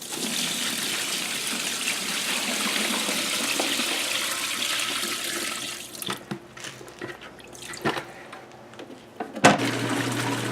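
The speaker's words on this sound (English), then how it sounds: "We're going to pour a little water into rinse." Water poured into a camper van's washing rinse, a steady splashing pour for several seconds that then breaks into intermittent gurgles and sloshes, close and fairly loud.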